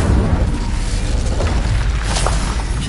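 A fiery Incendio spell blast in the Hogwarts video game, a loud, dense whooshing boom that roars steadily for about three seconds with crackling bursts near the end.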